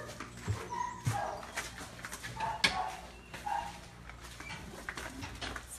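Puppies at a shelter courtyard bark and whimper in short, scattered yelps against a busy background, several dogs close by with no talking.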